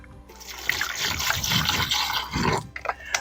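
Water splashes and swishes in a container as corn plant roots are rinsed off, producing a continuous sloshing trickle close by.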